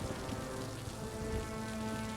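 Steady rain pours throughout a scene from the One Piece anime, a dense, even hiss of drops that stays constant from start to finish with no voices.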